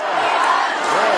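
A large, orderly crowd gathered to welcome Vladimir Putin chants "Russia" in unison, a dense, loud wall of massed voices that holds steady through the whole moment.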